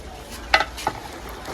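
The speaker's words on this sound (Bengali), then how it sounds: "সবকিছু মাংসের সাথে ভালোভাবে মিশিয়ে নেব" Meat being stirred with garlic and ginger paste in a pan, two brief scraping strokes rising over a faint steady sizzle, close and alone without talk.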